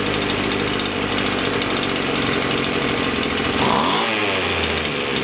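A strimmer's small two-stroke engine runs close by with a continuous buzzing, rattling drone. The pitch shifts and dips briefly near the end as the idle is adjusted.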